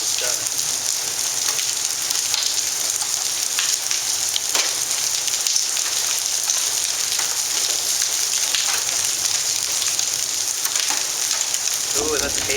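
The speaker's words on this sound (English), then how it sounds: "that's hail starting to come down." Hail falls during a thunderstorm in Dallas, Texas, a dense, crackling patter of icy hits with scattered sharper impacts, steady and close throughout.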